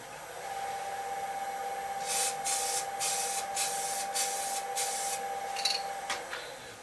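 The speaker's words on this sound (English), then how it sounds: "I feel like I have a lot of control over what I'm spraying here." Short bursts of lacquer finish being sprayed onto wood, several hissing pulses in a quick row over a faint steady background hum, close and moderately loud.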